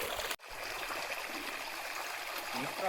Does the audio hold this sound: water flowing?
yes